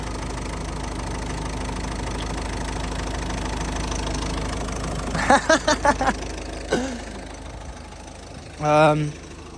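The engine of a crash-damaged Ford Focus MK3 idles in a steady, close drone. A burst of talk comes over it partway through, followed by a short, louder sound near the end.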